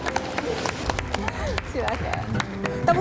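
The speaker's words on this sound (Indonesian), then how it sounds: "Tepuk tangan sekali lagi untuk persembahan luar biasa ini." Audience applause following a performance: scattered, uneven clapping and crowd noise with a voice speaking over it.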